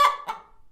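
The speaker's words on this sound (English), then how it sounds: "Indeed, it is a chicken, Captain." A chicken carried in a bag gives two squawky, honking clucks, close and fairly loud, the second one weaker, with no talking.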